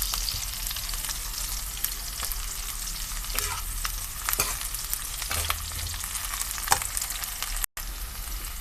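Whole cloves, cardamom, cinnamon pieces and three chopped green chilies fry with a steady, close sizzle in a pan, with occasional scraping stir strokes over the constant crackle.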